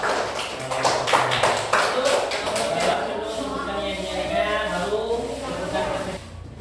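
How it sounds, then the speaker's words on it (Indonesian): A classroom group of students gets a short burst of sharp claps for their group. The clapping thins out and gives way to a voice speaking. "Berikan aplaus dulu untuk kelompok"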